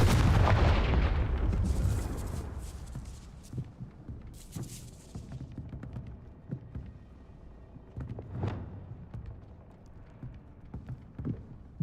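A Confringo blasting spell in a Hogwarts video game lands as a loud opening explosion that rumbles and fades, leaving scattered debris clatters and thuds afterward, with no talking.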